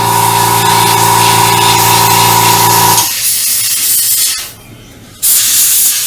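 An airbrush sprays paint onto a StuG III Ausf G scale model, giving a steady hiss with a faint tonal hum that stops abruptly partway through, leaving quiet before a brief burst of spray returns.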